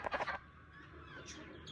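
A hen in a coop lets out a quick burst of a few close clucks, then quiet ambient background follows.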